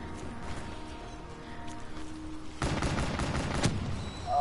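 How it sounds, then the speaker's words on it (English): Dense burst of gunfire in the Black Ops 3 campaign, shots from a character firing through a window, a sustained loud volley kicking in partway through over ongoing game noise. "I'm just shooting him through the window."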